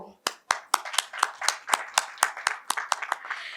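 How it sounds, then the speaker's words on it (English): Rhythmic clapping at the Filmfare Punjabi 2025 event in Chandigarh, a steady run of a dozen or so sharp, evenly spaced claps with a voice underneath. "With a huge round of applause"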